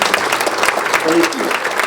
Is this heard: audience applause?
yes